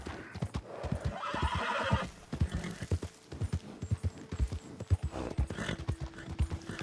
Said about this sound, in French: C'est quand même pas beaucoup de galoper non-stop pour un cheval